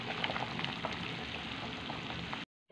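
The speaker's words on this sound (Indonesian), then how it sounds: "ini saya akan menggoreng bakwan ya" Bakwan vegetable fritters fry in hot oil with a dense, steady sizzle and crackle throughout, then the sound cuts off abruptly just before the end.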